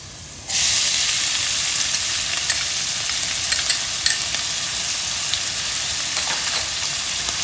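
Chopped garlic and onions hit a hot pan, bursting into a loud, continuous sizzling hiss that holds steady with a few light crackles, heard up close and alone.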